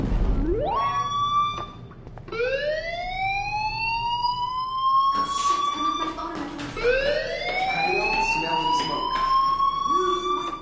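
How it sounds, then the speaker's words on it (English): Fire alarm in the video game Life is Strange, a rising wailing siren tone that sweeps upward repeatedly, loud and continuous, with faint background noise beneath. "Hey, do you hear that fire alarm?"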